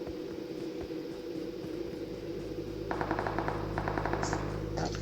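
Machine gun fire in the PUBG video game starts a few seconds in as quick rhythmic bursts over a low steady background rumble. The shots sound fairly distant and moderately loud.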